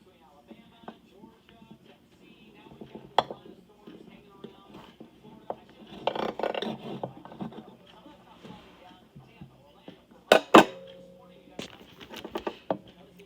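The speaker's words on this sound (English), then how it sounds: "And I'm gonna keep cutting." A knife slices a bagel into strips on a cutting board, giving soft scattered cuts, scrapes and a few sharp knocks, with quiet handling noise and a person talking in between.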